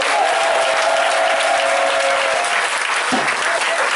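Church congregation at a night vigil at Centre Péniel in Divo breaks into loud, sustained applause and cheering to acclaim Jesus, a dense crowd clapping without pause, with some voices rising through it.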